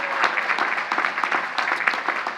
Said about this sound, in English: A round of applause for the moms and dads.